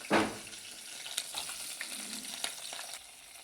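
Onion, green chili and curry leaves are dropped into hot oil and fried for tempering, giving a sharp initial splash and then a steady soft sizzle with light stirring clatter, close by and with no talk.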